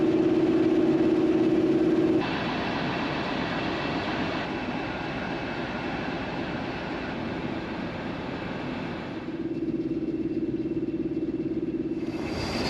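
Idling locomotive engine on the Douro Valley line, a steady low diesel rumble with a faint mechanical hum that shifts in tone partway through, heard from close by without speech.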